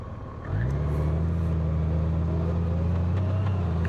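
A Honda Goldwing motorcycle rides over a rough, bumpy road, its engine settling into a steady, loud drone after a brief quieter start, with constant road and wind rumble.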